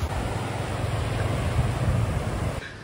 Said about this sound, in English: the sound of water really is calming to an extent